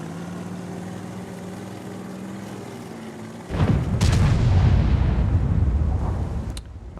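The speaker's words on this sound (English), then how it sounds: "That's the reason there's so many shots being fired." A tank cannon fires in World of Tanks, one loud close boom that rolls and rumbles for several seconds after a low steady engine hum, then a second sharp crack near the end.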